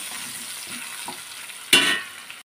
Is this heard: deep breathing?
no